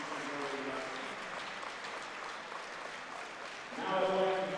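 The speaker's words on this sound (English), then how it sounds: "Give Robert a huge round of applause." Audience clapping steadily in the stands at a high school varsity boys wrestling meet, a sustained round of applause that swells louder near the end.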